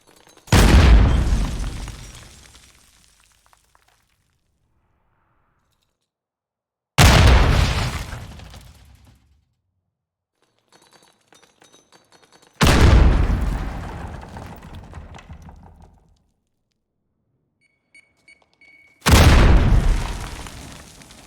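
Four heavy airstrike or bomb impacts in a Call of Duty game heard from indoors, each a loud deep boom with a long rumbling decay, spaced several seconds apart with near-silence and faint debris rattles between.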